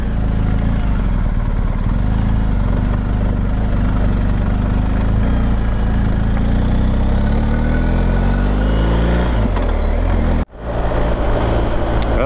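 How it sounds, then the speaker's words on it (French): A motorcycle engine drones loudly and continuously while riding, with a steady low rumble and wind noise, briefly cutting out near the end. "les bruits de la moto résonnent différemment en fait"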